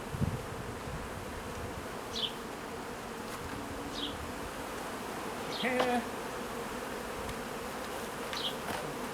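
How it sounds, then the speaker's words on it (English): Honey bees hum in a dense, continuous drone close by around an urban hive, with a few brief chirps over it and a single word spoken. "an awful lot of bees around"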